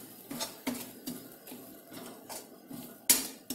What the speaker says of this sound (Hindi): अब हम इसे कुछ इस तरह से अच्छे से मिक्स कर लेने वाले हैं।